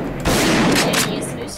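Shotgun fire in the video game Garry's Mod, a dense, close burst of blast noise lasting about a second.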